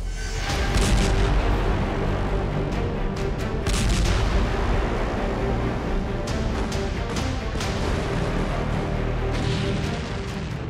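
A continuous heavy rumble with repeated booming blasts from an explosion in Beirut during the Israel-Hezbollah war, loud and dense throughout.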